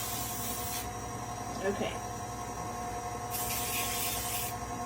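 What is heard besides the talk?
cooking spray spraying into a pan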